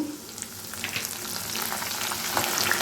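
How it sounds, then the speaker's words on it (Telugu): Dried red chillies and curry leaves frying in hot oil for a grated mango pickle, giving a steady close sizzle with light crackles and occasional stirring throughout. "వేగుతుందండి. ఇప్పుడు ఎండుమిర్చిని, కరివేపాకు కూడా వేసుకుందాం."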